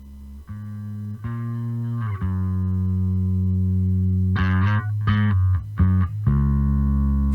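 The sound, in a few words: clean bass guitar, Squier Jazz Bass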